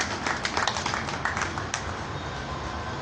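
An audience welcomes a newly appointed doctor at a political gathering with a brief burst of scattered hand claps that fades into a steady crowd murmur.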